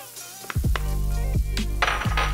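Onions hit melted butter in a pan with a sizzle, among repeated metallic clanks and scrapes of utensils against cookware; a steady hiss runs underneath, and no one speaks.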